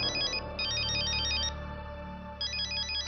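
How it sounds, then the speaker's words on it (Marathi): A mobile phone plays an electronic ringtone indoors, a bright repeating melodic pattern in two bursts with a short gap, loud and close with no talking. "सत्यजितचा फोन"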